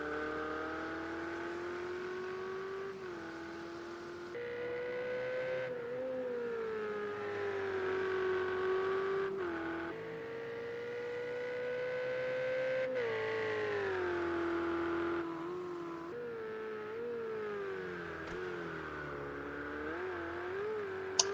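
GT3 race cars lapping Laguna Seca in the PS4 racing game Motive Racing, steady engine whine rising and falling with gear shifts and throttle, moderately loud and continuous, with no voices.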